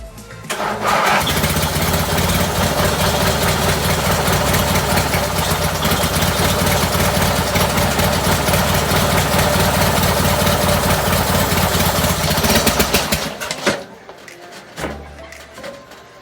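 A homemade racing lawn mower engine starts up and runs loud and close for about twelve seconds with a steady buzzing drone, then cuts off abruptly into quiet.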